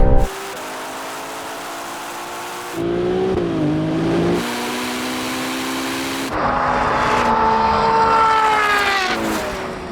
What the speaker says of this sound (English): And the 296 got a terrible launch, but now it's going.